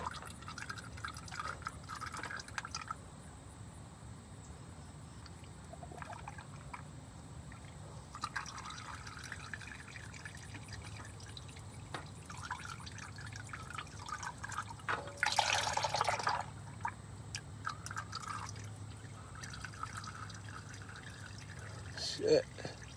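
Engine oil draining from an Infiniti G37 during an oil change, a faint steady trickle and drip running throughout, with a brief louder splash partway through and low garage background noise.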